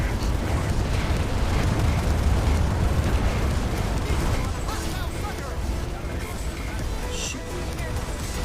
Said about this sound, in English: Is that a mortar?